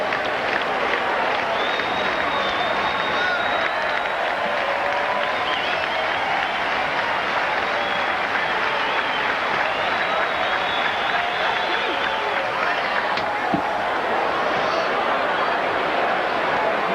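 A baseball stadium crowd at a Sox vs. Red Sox game in 1999 keeps up a continuous roar of cheering and applause, steady and broad throughout, with faint whistles riding over it.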